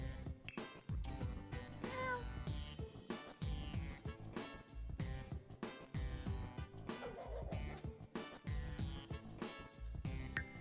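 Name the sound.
cat meowing in The Sims 4 video game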